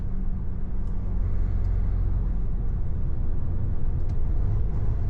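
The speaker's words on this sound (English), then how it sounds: "this traffic right now is for Creamfields" Slow road traffic on the way to the Creamfields festival near Liverpool: a steady, close engine rumble and tyre noise from cars and vehicles, continuous and even, with no voices.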